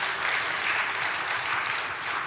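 Audience applause, a dense steady clapping from a crowd that fills the whole moment at an even level, with no talking over it.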